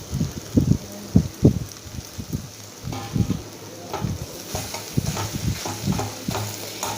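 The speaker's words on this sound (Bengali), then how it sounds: "এবার ম্যাশ করা আলুটার সাথে আদা আর অন্যান্য মশলাগুলো ভালো করে মাখিয়ে নিতে হবে খুন্তির সাহায্যে" Mashed potato being stirred and pressed with a spatula in hot oil with fried ginger and spices, heard as repeated scraping strokes over a soft, continuous sizzle, fairly close.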